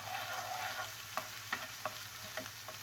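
Ginger garlic paste fries in hot oil in a pan with a soft, steady sizzle, punctuated by several light scraping stirs, close and quiet.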